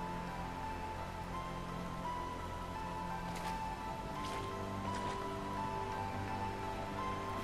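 Steady rainfall in the video game I'm Counting to 6, a soft continuous hiss of drops over a low background hum, with a few faint brief rustles and no talking.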